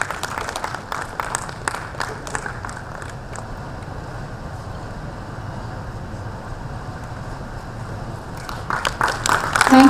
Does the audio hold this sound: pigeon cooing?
no